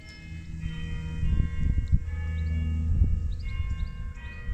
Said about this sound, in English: it's quite fun being surrounded by church bells and birds